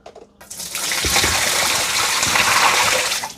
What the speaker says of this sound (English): Okay, let's dump it out.